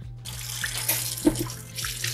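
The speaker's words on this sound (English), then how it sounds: "We're gonna wash the rice." Rice being rinsed in a kitchen sink under a running tap, a steady wash of water with a few louder splashes and clinks as the grains are swirled, close and alone with no talk.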